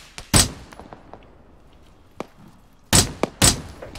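Anti-aircraft grenades in a video game go off as a few sharp, loud bursts: one early, then a closely spaced pair near the end, with faint thumps in between.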